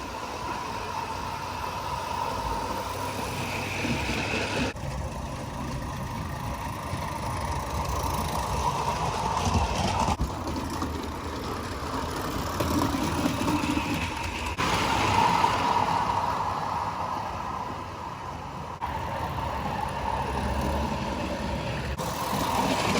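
A G-scale live steam model train runs down a small incline on homemade dual-gauge track laid across a deck. It gives a steady, continuous mechanical rumble with mild swells, fairly close, and no voices.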